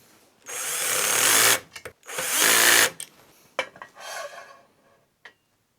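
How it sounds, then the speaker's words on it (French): A power drill drives screws while parts of a Mecpow X5 Pro laser engraver frame are assembled, two loud sustained whirring bursts followed by shorter, quieter bursts and a few clicks, with no talk. "Je visse."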